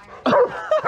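A German Shepherd barks sharply at a snow shovel, a couple of close, loud barks with a brief yip between them, no talking over it.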